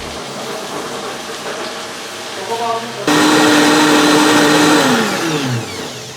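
A kitchen mixer grinder blending hot ingredients starts abruptly partway through, jumping to a loud, steady motor whine with a shifting pitch, after quieter moments where a voice speaks.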